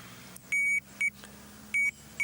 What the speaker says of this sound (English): the electronic alarm will sound.